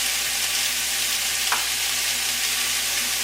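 Greens sizzle steadily in a very hot pan as they are stirred, a dense continuous frying hiss with a brief scrape of the utensil midway.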